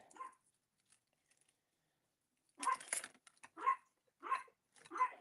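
A dog barks repeatedly in a kitchen, several sharp close barks in quick succession after a quiet stretch, with faint movement noises between them.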